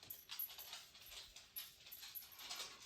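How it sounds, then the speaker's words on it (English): A dog named Shadow whimpers softly indoors, a run of faint, thin whines and yips repeating at an uneven pace with no voices over them. "That's the dog."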